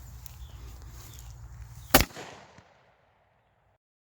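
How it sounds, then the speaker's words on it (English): A single sharp rifle shot rings out as an M193 or M855 round strikes a Level IV ceramic body armor plate, loud and close, with a brief echo tailing off afterward over a low outdoor rumble. "So I've got 3 rounds of the M193 and 3 rounds of the M855. We're just gonna hit this thing 6 times"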